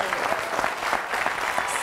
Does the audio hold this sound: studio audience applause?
yes